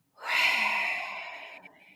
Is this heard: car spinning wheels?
no